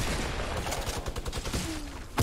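Rapid bursts of video game machine gun fire rattle in quick succession, loud and close, with a dense staccato rhythm.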